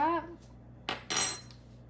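A spoon clinks against a bowl twice in quick succession while adding an ingredient to eggless pineapple upside-down cake batter, a short tap followed by a brighter, longer ring, then quiet.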